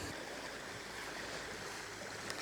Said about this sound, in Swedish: Där finns i alla fall ett vattenfall.